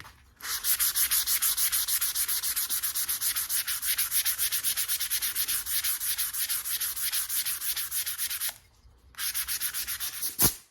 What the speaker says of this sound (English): we'll just give it a light 220 sanding